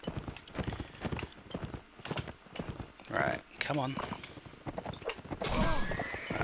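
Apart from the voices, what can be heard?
horse galloping and neighing in a video game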